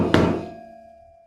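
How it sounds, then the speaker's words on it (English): A single sharp, gunshot-like pop with a hollow metallic ring as a motorcycle tyre bead seats onto the rim during inflation, decaying over about a second, close by and fairly loud. "as you pump air in, you'll get a pop and a pop"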